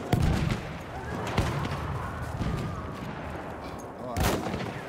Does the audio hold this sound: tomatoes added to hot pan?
no